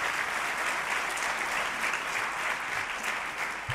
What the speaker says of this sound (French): Moi, je pense qu'il faut des applaudissements d'abord.